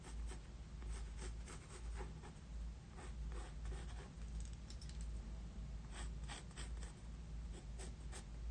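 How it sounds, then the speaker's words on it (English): Pencil scratching across paper while shapes are defined over a sketch, a steady close scraping texture with quick repeated strokes throughout. "is I go over it with pencil, defining shapes."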